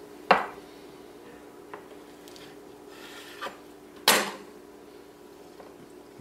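A knife cuts into a homemade chocolate coconut bar on a hard surface, giving a few sharp isolated knocks and scrapes spread apart by quiet pauses, the loudest one near the end.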